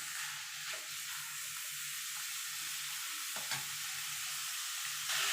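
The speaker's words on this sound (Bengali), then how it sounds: "এবার এটাকেও মিনিট খানিক একটুখানি নাড়াচাড়া করে নেব মশলার সঙ্গে।" Chicken with spices cooking in a pan gives a constant loud hiss of sizzling oil, with a few soft stirring scrapes and taps spread through the sizzle.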